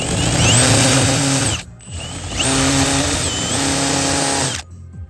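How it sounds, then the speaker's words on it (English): A power drill boring holes to route a handbrake oil line, two loud sustained whining runs separated by a brief pause, close up with no talk. "So now is drilling some holes."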